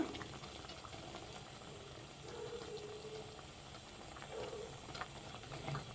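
A pot of bisi bele bath with masala powder stirred in, simmering at a gentle, steady bubble with a soft hiss throughout, faint and continuous, with no voices.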